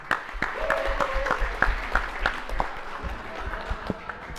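At a CUNY esports event, an audience claps for the Hostos and Baruch teams. The clapping is sparse and uneven, with distinct individual claps and some talking underneath.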